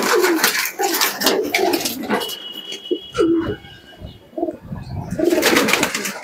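Domestic pigeons kept by a pigeon fancier in Krishnanagar coo in a low, repeated rhythm, close and fairly loud, with other bird calls mixed in.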